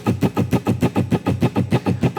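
Steady, even sixteenth-note funk strumming on a muted guitar: rapid, evenly spaced strokes in a tight, unaccented rhythm, close and clear.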